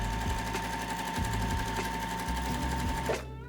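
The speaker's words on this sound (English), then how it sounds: "Now I'm going to sew directly onto that line." A sewing machine stitches a quilt square along a marked line, a steady close rapid mechanical whirr with rhythmic needle clatter that runs for about three seconds and then stops abruptly.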